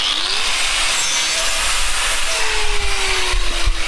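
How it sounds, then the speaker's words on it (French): A damaged linch pin on farm machinery is being cut with a harsh, continuous loud grinding-sawing rasp that carries on steadily with no pauses. "Faut qu'on découpe la goupille qui a pris un bon shoot"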